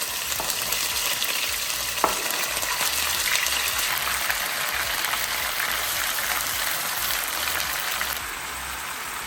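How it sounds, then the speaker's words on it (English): Pork pieces browning in canola oil in a pan give off a loud, dense, steady sizzle with crackling spits, broken by one sharp tap about two seconds in, and no one speaks. "I'm gonna add my pork pieces to the oil, and we're gonna brown them up before we put them in the crock pot."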